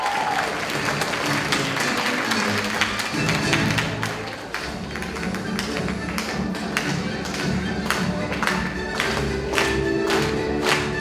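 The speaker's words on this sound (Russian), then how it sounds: "подружно аплодисменты болельщиков" Audience of supporters applauding at the final of a children's team competition, sustained loud clapping with sharp individual claps and thumps standing out across the hall.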